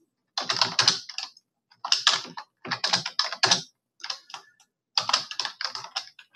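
Computer keyboard typing in quick bursts of clicking keystrokes with short pauses between runs, close and fairly clear with no talking.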